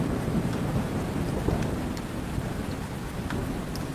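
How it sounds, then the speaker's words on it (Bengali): Heavy stormy-night rain as a cartoon sound effect, a dense steady downpour with low thunder rumbling beneath it, loud and continuous, no voices. "বৃষ্টির কোনো বিরাম নেই।"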